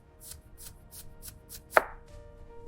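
A knife chops taro root into cubes on a cutting board, six or seven even, crisp chops in a steady rhythm followed by a louder knock, close and clear with no talking.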